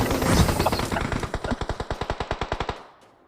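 Automatic gunfire in the video game PUBG rattles in a rapid burst of evenly spaced shots, moderately loud, following a denser clatter of firing and fading out after about three seconds.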